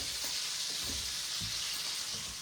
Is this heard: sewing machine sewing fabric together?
no